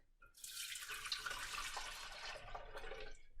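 Milk and water pour into a pan in a continuous close splashing stream lasting a few seconds, fairly soft, with no speech.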